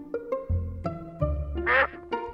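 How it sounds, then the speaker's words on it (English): A duck quacks several times in short, nasal bursts, close and clear, with a quick raspy call near the end. "Quack, quack, ducky."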